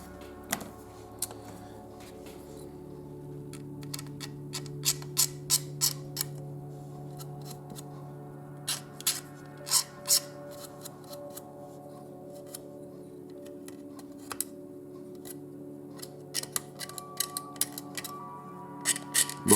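Small sharp clicks and snips of trimming burrs from plastic Honda Accord Wagon model kit parts, 1/24 scale Aoshima, irregular bursts of close ticks over a quiet background.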